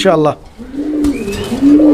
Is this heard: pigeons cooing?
yes